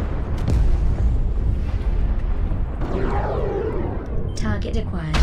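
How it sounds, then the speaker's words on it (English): In the MechWarrior Online game, an artillery strike lands with a heavy rumbling boom, followed by further crackling blasts and mechanical battle noise throughout, with a voice heard over it. "Artillery strike."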